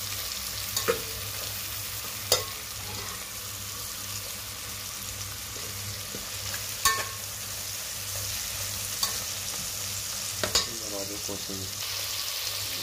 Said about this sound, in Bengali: ফ্রাই করে কষিয়ে নিতে হবে তেলের মধ্যে